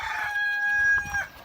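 A backyard rooster crows once, loud and near, in a drawn-out call ending with a short final note, with the flock of chickens around it.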